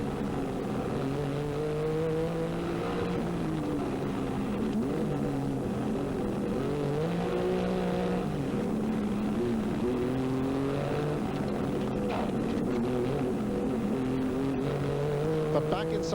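A Rothmans Porsche rally car on a 1986 Circuit of Ireland Rally stage, its engine holding a loud, sustained drone with shifting pitch as it drives the road, continuous and close with no pauses.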